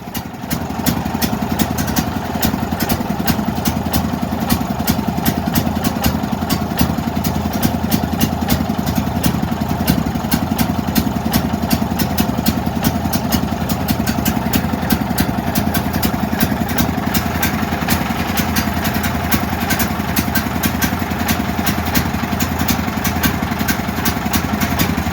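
A Duramax 8500 dual fuel generator runs steadily and loudly close by, giving a continuous engine drone with a fast, even pulse and no pauses.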